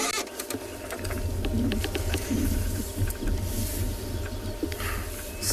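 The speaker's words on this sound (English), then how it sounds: "you can just hear the birds calling in the background." Birds calling in the South African bush during an afternoon safari: scattered short chirps and calls at moderate distance over a low, steady mechanical hum.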